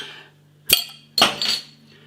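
Capping a bottle of Badger Twice Tangled double-hopped IPA: a sharp metallic click, then a bright clinking hiss about half a second later that trails off gradually. No speech over it.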